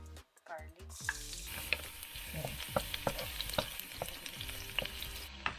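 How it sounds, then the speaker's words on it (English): Garlic sautéing in hot oil in a pan for squid adobo, a busy close sizzle with scattered crackles and pops and stirring scrapes, following a brief quiet start. "Make sure the oil in the pan is hot enough. First, you need to stir your garlic."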